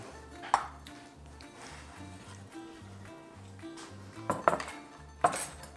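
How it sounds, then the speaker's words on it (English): A bowl and a cutting board are shifted across a kitchen counter, giving a few sharp knocks and clatters over soft background music. "I'm going to move my board away."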